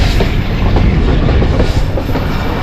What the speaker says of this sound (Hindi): पहला वाला रेलवे स्टेशन अप्रोच में आ रही है ट्रेन